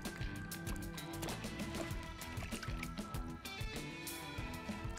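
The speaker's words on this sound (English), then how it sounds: "then you want to give the whole thing a thorough rinse" Water running and dripping as a Duotone Click Bar is given a thorough rinse, a steady close trickle with irregular splashes and drips, fairly quiet and without talk.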